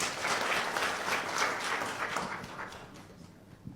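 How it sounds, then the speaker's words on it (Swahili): Audience applause fills the room at a podcast-style talk on share investment in Kenya, a steady wash of many hands clapping that holds loud for about two seconds and then gradually thins and fades out. "Makofi tafadhali."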